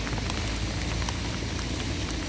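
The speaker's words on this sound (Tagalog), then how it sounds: "Malakas na yung ulan." Heavy rain falls steadily at a house, a dense, continuous hiss and patter on surfaces with no break, loud and close throughout.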